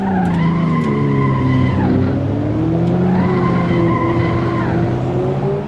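A racing car engine in Assetto Corsa whines through rising and falling gear shifts while tires squeal and skid, loud and continuous, with a synthetic game-like quality.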